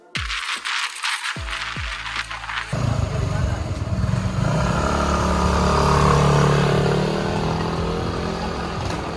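A worn, noisy NMAX motorcycle on a test ride: a few brief revs and clatter, then the engine settles into a loud, steady drone that swells and holds to the end.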